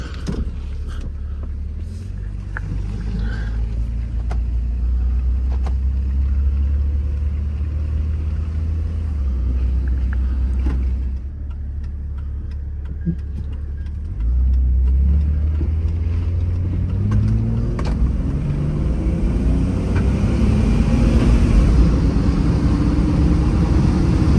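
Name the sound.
2001 Jeep Grand Cherokee Laredo 4X4 driving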